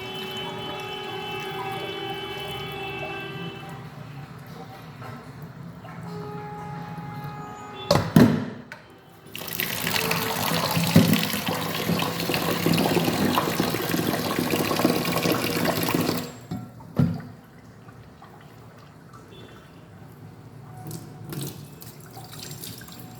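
Lentils being washed in a kitchen sink under a running faucet, water gushing steadily for several seconds with splashing and dripping before and after, no talking.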